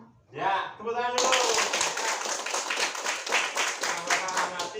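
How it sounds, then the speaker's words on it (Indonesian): Children in an Indonesian classroom clap in unison for a few seconds, a quick run of sharp claps that begins after a brief spoken phrase and keeps a steady rhythm, close and loud. "ya, tepuk tangan dulu."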